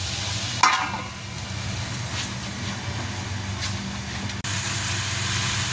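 Vegetables for lumpia filling cook in a pan with a steady, moderate sizzle and soft stirring scrapes, broken by a sharp clack near the start and a brief dip before the frying hiss returns.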